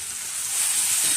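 Tomatoes with turmeric and salt sizzle in a hot pan while cooking sambar, giving a steady, bright hiss that swells slightly toward the end, with no voices.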